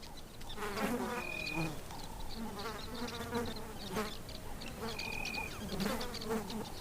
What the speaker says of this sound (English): a swarm of red paper wasps is constructing their papery houses